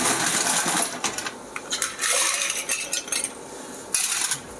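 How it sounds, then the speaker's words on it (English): Ice cubes dropped into a mixing glass while making a Sazerac cocktail: a close series of bright clinks and clatters in uneven bursts, loud and without talk. "So we'll add some ice first."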